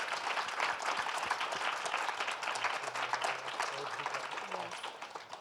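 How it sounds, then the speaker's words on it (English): Panel audience at an arts and health event applauding the panelists, a dense steady wash of clapping across the room with some murmuring voices mixed in. "let's give them a round of applause for their sharing"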